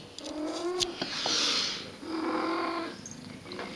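A cat purring and giving drawn-out, trilling vocal calls close by, the rumbling purr continuous beneath two longer moaning cries.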